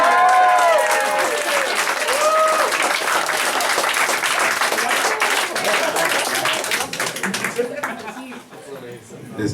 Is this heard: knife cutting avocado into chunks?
no